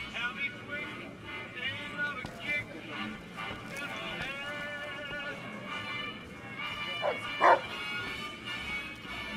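Cyborg dog Rex from the Fallout: New Vegas video game, a few short barks and yips, fairly faint and mixed under game ambience and talking.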